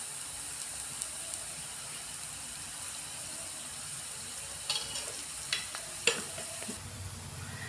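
Thalipeeth, a lentil flatbread, frying in oil on a pan over medium gas, with a steady soft sizzle throughout and a few sharp clicks and taps of utensils against the pan toward the end.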